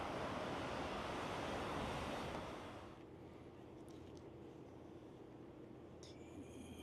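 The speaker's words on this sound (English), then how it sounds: "Very breezy today." Breezy wind buffets outdoors on a Kansas City street, a loud, steady rush for the first two seconds that then eases to a softer, continuous blow with faint sounds behind it.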